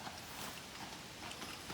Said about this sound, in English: There's some horses coming.